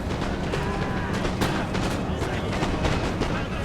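Artillery and gunfire in a Napoleonic battle video game, a dense continuous barrage of overlapping booms and crackling shots, loud and unbroken throughout.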